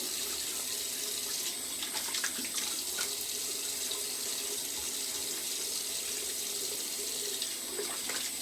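Water runs steadily from a tap into a sink while a face is wetted before a safety razor shave, a continuous close hiss with small splashy variations and no talk.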